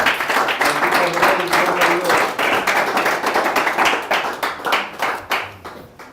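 A church congregation claps hands, a loud rhythmic burst of many hands striking together that gradually thins and fades toward the end.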